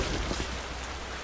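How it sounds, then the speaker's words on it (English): Steady rain pours down in the video game Death Stranding, a dense, even hiss that fills the whole stretch with no voices over it. "Oh, it's raining."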